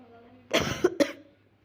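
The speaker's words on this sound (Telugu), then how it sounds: "కొంచెము కోల్డ్ కానీ కాఫ్ కానీ ఉందని" A person with a cold coughs at close range: one harsh burst followed quickly by two shorter coughs, loud against a quiet background during a mobile football game session.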